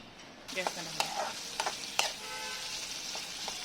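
Chopped potato and tomato sizzle in a hot wok (kerahi) while a spatula stirs them, steady hissing frying punctuated by sharp scraping clicks of the utensil, close and fairly quiet, with no talking.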